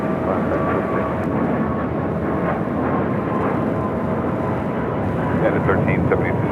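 A United airliner rolls for takeoff on runway 25 right at LAX, a loud sustained engine roar with a broad steady rumble filling the whole stretch, while a voice talks over it.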